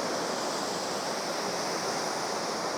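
Water spilling down small cascades gives a steady, soft broadband rush, constant and moderately distant with no voices over it.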